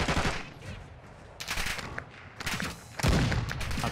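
Rapid automatic gunfire rattles in from behind during a third-person match of Warzone 2, with loud bursts separated by brief lulls and a heavy volley near the end.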